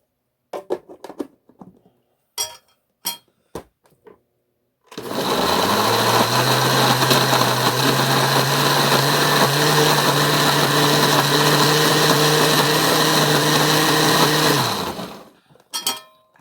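A blender purees tamale masa ingredients in one continuous loud motor run of about ten seconds. A few sharp knocks and clatters come just before it starts and again after it stops.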